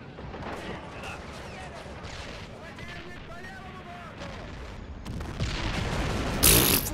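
Mortar and artillery-style booms thud from the World War II shooter Call of Duty: World at War, muffled distant blasts under a steady battle ambience, rising into louder, harsher explosions near the end.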